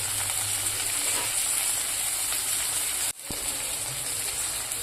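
Coriander stirred into dal khichdi in a hot pan gives a continuous close sizzle and bubbling, with a brief dip and soft scrape near the end.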